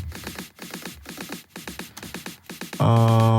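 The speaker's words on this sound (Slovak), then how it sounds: "Ďalej tu máme snary v build-upe" Rapid repeated snare hits in a steady quickening pattern form an electronic track's build-up, building tension, then cutting into a loud sustained synth chord at the end.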